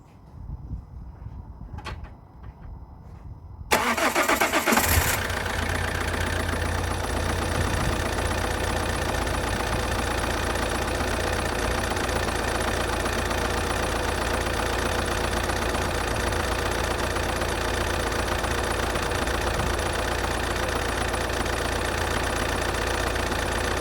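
A Vauxhall Signum diesel engine cranks briefly, catches with a loud burst and settles into a steady, even idle that runs on unchanged, heard close up after a few quiet knocks at the start.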